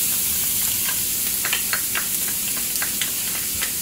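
Garlic and onions sizzle and hiss steadily in a hot pan for shrimp paella, with soft scraping stirs popping through the even frying noise; no one talks.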